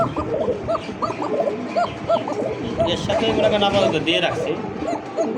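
Male pigeons coo repeatedly at close range, with soft rounded calls running under near-constant male speech.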